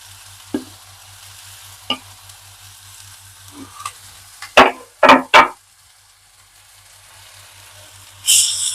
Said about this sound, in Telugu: ఒకసారి అంతా ఫ్రై చేసుకుందామండి.